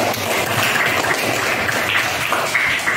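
Classroom students applauding together, a dense continuous clatter of many hands, loud and even for the whole stretch with no talking over it.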